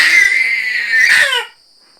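A little girl cries and screams at home, one loud, sustained, high-pitched wail lasting over a second before it cuts off into quiet.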